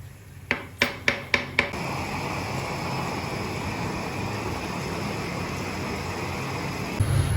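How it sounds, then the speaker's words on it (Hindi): A spoon knocks sharply against a metal pot five quick times, then scrapes and stirs steadily as daal mash and water are mixed together. "अब दाल को अच्छी तरह से मिक्स करेंगे इसमें हम पानी में।"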